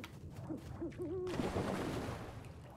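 An owl in the puzzle-platformer Never Alone gives a few soft, wavering hoots, fairly quiet over a low ambient background, with no speech.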